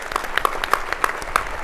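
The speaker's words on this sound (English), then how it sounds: "Let's give them all a round of applause for kicking us off this morning." Conference audience at a sustainability summit morning plenary giving a round of applause, a moderate continuous wash of many hands clapping, steady and unaccompanied by talk.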